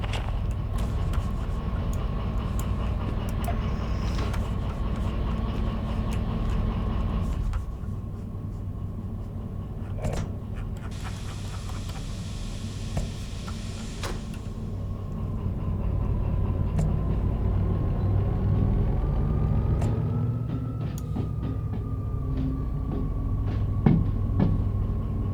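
A train in the Derail Valley simulator game rumbles steadily along, hauling a caboose, with continuous low rolling noise, occasional creaks and clanks, and no talking.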